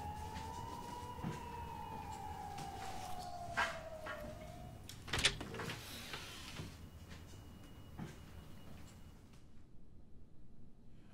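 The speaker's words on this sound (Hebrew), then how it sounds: "יש לנו פה אזעקה" An air raid alarm siren sounds in Kiryat Shmona, Israel, a single wailing tone gliding slowly downward from a moderate distance before giving way to scattered knocks and clatter.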